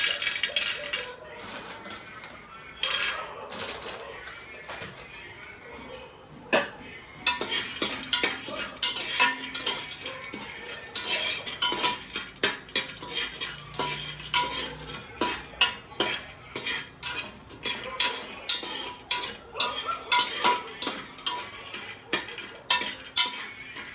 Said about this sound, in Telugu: ఇవి కొంచెం గోల్డెన్ ఫ్రై వచ్చే వరకు వేయించుకోండి